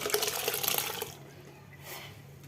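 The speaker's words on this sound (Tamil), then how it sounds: "இப்போ இந்த பருப்பை ஊற்றிடலாம்." Cooked dal is poured from a pressure cooker into a pot of sambar, a wet, splashing rush for about a second that drops to a faint trickle and fades.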